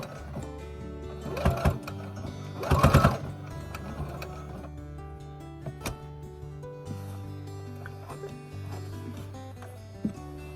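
Sewing machine stitching a box of thread around the edge of a Christmas stocking, with steady mechanical whirring and two louder bursts near the start before it settles into quieter running.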